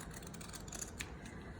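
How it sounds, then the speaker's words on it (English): Pinking shears snipping through fabric, a faint, close crisp cutting crunch with a couple of sharper clicks of the blades. "using pinking shears is a good way of cutting fabrics"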